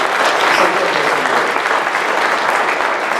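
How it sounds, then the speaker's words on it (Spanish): A church congregation bursts into continuous applause for the King of Kings, a dense and loud wash of many hands clapping together that holds steady throughout the clip. "Démosle un aplauso al Rey de Reyes."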